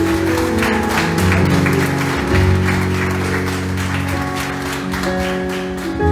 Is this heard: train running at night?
no